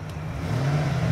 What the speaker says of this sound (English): Let's go ahead and turn the radio up and rev it up so you guys can hear how the engine sounds.